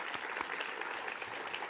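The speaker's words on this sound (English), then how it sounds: "let's give an applause to" Applause from a ballet company's season launch audience, steady clapping from a room full of people, fairly soft and continuous with no voices over it.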